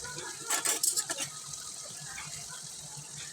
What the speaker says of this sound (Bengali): এখন আমি ধুয়ে কেটে রাখা আলুগুলো দিয়ে দেব।